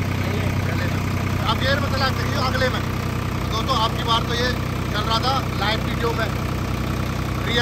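A Swaraj 744 XT tractor fitted with a hopper runs at a steady, close, droning idle throughout, while someone talks over the engine.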